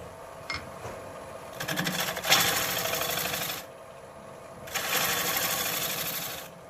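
A trimming tool shaves back the rim of a green clay pot spinning on a potter's wheel, giving two sustained bursts of gritty, scraping noise over a steady motor hum, with a brief tick near the start.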